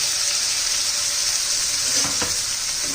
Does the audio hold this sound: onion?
yes